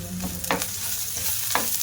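Ginger garlic paste fries in hot oil in a frying pan, a soft steady sizzle broken by a few short scraping stirs, close and fairly quiet with no voices.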